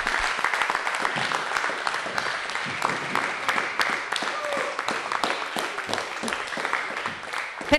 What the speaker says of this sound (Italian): fatevi un applauso generale